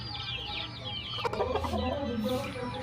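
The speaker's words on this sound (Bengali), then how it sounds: "চারিদিকে মুরগ আছে, ওইদিকে ফার্ম একটা আছে আমাদের ছোটো মোটো" Parrot-beak chickens on a small farm cluck and murmur in a cluster of short, close calls over a low background hum, with a brief sharp knock partway through.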